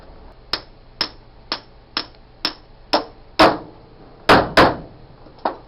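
Ten or so sharp metallic hammer blows drive a driver tool onto a power steering pump bushing on a Chevy, ringing close and loud at a steady, slightly quickening pace with no talking.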